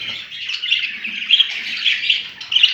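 Budgerigars chirp continuously in a home breeding area, a dense, bright chatter of overlapping tweets and calls with louder bursts near the end, close and steady with no talking.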